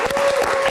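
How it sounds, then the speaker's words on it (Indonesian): Audience applause at a live comedy stage show in Indonesia, a short dense burst of clapping filling the whole moment with a steady tone running underneath. "Kita berikan tepuk tangan sekali lagi untuk GJLS."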